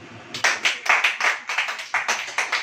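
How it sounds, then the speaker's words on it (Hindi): A congregation claps at a church sermon, a burst of about a dozen sharp, fairly loud claps in a quick uneven rhythm, close by with no voices over them. "ताली हो जाएगी।"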